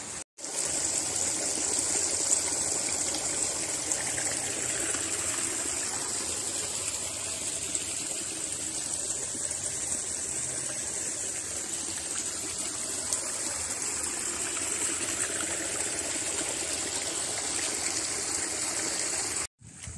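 A waterfall along the Monkey Hill hiking trail rushes in a steady broadband wash of falling water, constant and fairly close, with no voices over it.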